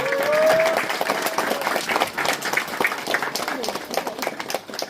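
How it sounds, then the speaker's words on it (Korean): A crowd claps in a steady wash of applause at a traditional Korean wedding ceremony at Chogye Hyanggyo, Hapcheon, with voices and a faint whistle-like tone near the start. "큰 박수로 환영해 주시기 바랍니다"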